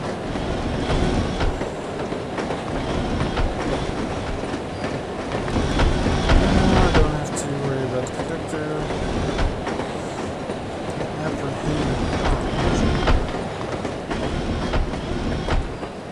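A moving train in the video game No One Lives Forever rolls along with a continuous rumble and rhythmic clickety-clack of wheels, swelling louder in places, with occasional speech underneath.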